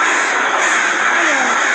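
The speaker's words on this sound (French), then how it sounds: "Le bruit des corbeaux, ça me rassure." Crows caw steadily over a dense, hissing ambient bed in a horror adventure video game, the calls blending into a continuous wash with no clear gaps.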